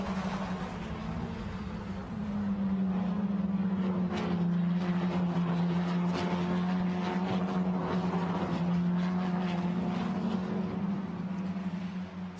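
Formula Renault Eurocup race cars climbing through the Schumacher S at the Nurburgring and riding the curb, making a steady, loud engine drone that holds for the whole stretch with no voices.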